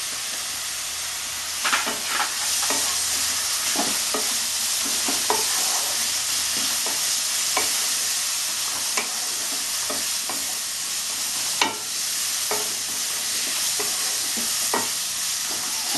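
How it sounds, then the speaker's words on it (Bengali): Spice masala with turmeric, salt and chili powder fries in a pan for a Bengali fish kofta curry, a steady close hiss and sizzle broken by repeated spatula scrapes and taps, with no voices. "এটা বেশ অনেকক্ষণ ধরে আমাকে কষতে হবে কাঁচা যেন গন্ধ না ছাড়ে"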